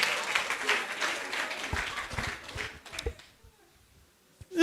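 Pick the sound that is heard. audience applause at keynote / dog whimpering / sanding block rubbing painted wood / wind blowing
audience applause at keynote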